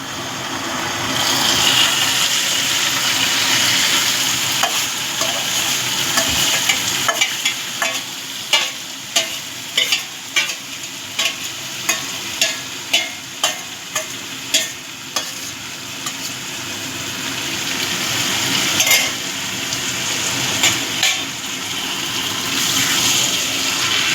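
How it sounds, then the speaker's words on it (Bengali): Marinated goat meat frying with browned onions and garam masala in a pan, a steady loud sizzle punctuated by a regular series of clanks and scrapes as the meat is stirred, with no talking. "এবার আমি ম্যারিনেট করে নেওয়া মাংসটা দিয়ে দিচ্ছি"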